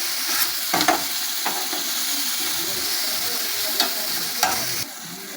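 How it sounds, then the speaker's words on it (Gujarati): Chopped onion sautéing with ginger garlic paste in a hot pan, a steady sizzle and hiss broken by a few scraping stirs of a spoon, close and continuous with no talk. "બરાબર મિક્સ કરી લઈએ અને ડુંગળી સાથે આદુ લસણને પણ સાંતળી લઈએ।"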